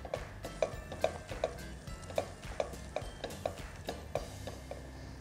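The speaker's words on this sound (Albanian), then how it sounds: "Biskotat i përzijejmë. Derisa gjalpa të shkrihet dhe të jetë e gatshme." Biscuits stirred in a pan as butter melts, a steady series of regular scraping and clicking strokes with a faint sizzle underneath.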